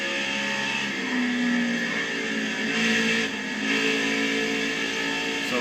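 A NASCAR truck's engine in the racing video game NASCAR Heat 5 holds a steady, dense drone with slight pitch shifts as it comes off a corner during qualifying.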